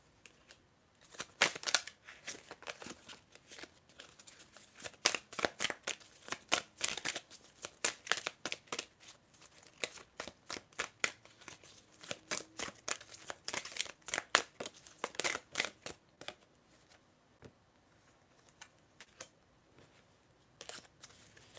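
An oracle card deck is shuffled by hand in a quick, irregular run of soft riffling and slapping clicks, close and fairly quiet, with no voices.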